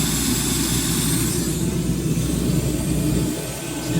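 A distributor on a 1985 Formula 302 SR1 speed boat engine is spun to drive the oil pump, producing a loud, steady whirring drone that holds evenly before easing slightly near the end.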